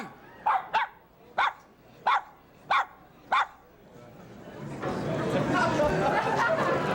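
A dog barks five times in an evenly spaced series, clear and close, then a crowd's chatter and murmur swell up afterward.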